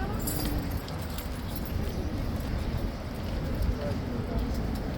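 Hooves of a King's Guard horse clip-clop faintly amid a steady outdoor crowd murmur, with jangling metal and people talking nearby throughout.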